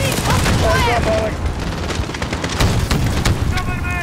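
Gunfire and heavy explosions from Call of Duty: Modern Warfare (2019) rumble and crack loudly in quick succession, with shouted voices and radio chatter mixed over the battle.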